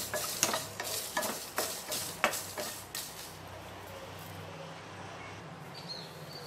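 Dried red chillies with a little rock salt fry in a hot pan, giving a close, loud sizzle with several sharp stirring scrapes at first, then settling into a softer steady crackle.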